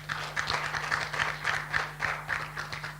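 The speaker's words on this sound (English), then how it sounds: "Another round of applause for Daniela." An audience at a conference on private capital in Uganda claps steadily at a moderate level, with even, rapid handclaps over a low electrical hum.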